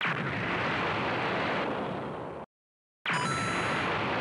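Crash sample from a beat-making session: a loud, dense burst of crashing noise cuts to silence, then returns with a bright bell-like chime layered over it, like a Super Mario coin sound.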